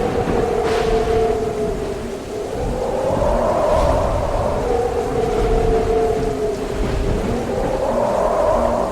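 A cartoon-style thunderstorm with rain over a forest: a steady, loud wash of rain with low rumbling thunder and slowly rising and falling tones, continuous throughout with no talking.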